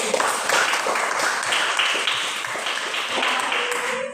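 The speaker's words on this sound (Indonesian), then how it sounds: "tepuk tangan kepada si Cici" A classroom of pupils claps for a classmate, a dense, steady patter of many small hands close by that runs without a break and fades at the end.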